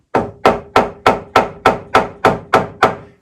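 An upholstery hammer taps traditional webbing on a chair frame to set a crease, giving nine sharp, evenly spaced wooden knocks about three per second, close and alone without talk.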